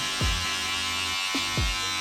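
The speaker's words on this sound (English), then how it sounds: "we use the Wow Cordless Detailer for extreme precision and extremely close" A Wow Cordless Detailer hair clipper buzzes steadily and close by, with two brief shifts in pitch as it is moved, during a skin fade haircut.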